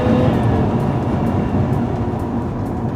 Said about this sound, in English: it's got a supercharger and it makes noises like this